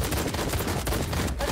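Gunshots in the VR game Night Club Simulator crackle as a dense, continuous burst of rapid fire, loud and close throughout the short stretch.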